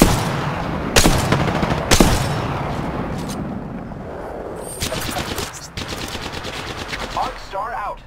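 Gunfire in the battle royale shooter Apex Legends: two sharp shots, then sustained automatic bursts at moderate distance, with a voice briefly talking near the end.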